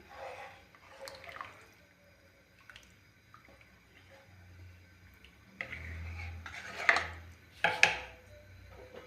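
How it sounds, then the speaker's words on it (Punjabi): Water stirred into an onion and vadi curry in a pot, quiet at first with scattered clinks, then a few louder wet scrapes and spoon knocks toward the end. "ਪਾਣੀ ਚੰਗੀ ਤਰ੍ਹਾਂ ਮਿਕਸ ਕਰ ਦਾਂਗੇ"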